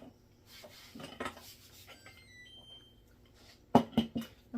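A pan is handled in a home kitchen while bread dough is made. There are scattered soft clinks, then a louder cluster of metallic clanks near the end, close by and with no talking.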